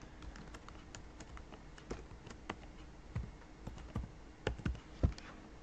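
Soft, irregular clicks of keys being pressed on a computer keyboard, a short burst of typing with a few sharper keystrokes near the end, close and quiet in an otherwise still room.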